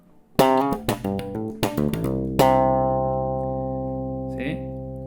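A Fender Jazz Bass with the tone knob slightly rolled back plays a brief slapped phrase of several quick notes, then a sustained note rings out and fades, close and clear, with a faint soft sound near the end.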